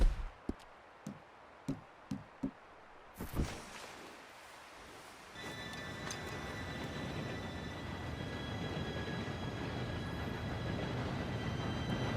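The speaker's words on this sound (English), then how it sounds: "Train should be here any minute now." A train approaching in the Red Dead Redemption 2 video game: a few sharp taps, then a growing low rumble and clatter of rolling rail cars with a high steady whine, building and continuing to the end.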